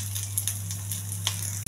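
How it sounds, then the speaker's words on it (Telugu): Curry leaves and onion frying in oil, a steady close sizzle with soft crackles and occasional stirring scrapes over a constant low hum. "కరివేపాకు, ఉల్లిపాయ బాగా వేగించాలి."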